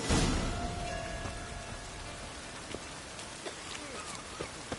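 Steady rain hisses evenly in the video game The Witcher 3, with a few soft drips and light taps scattered through the downpour.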